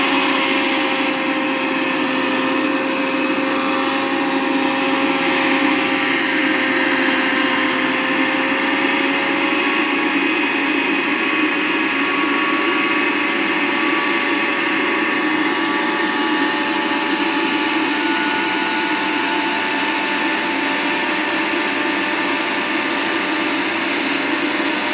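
A blender grinding dried spinach into powder runs continuously at high speed, a steady loud whirring grind with a constant motor whine, no voices.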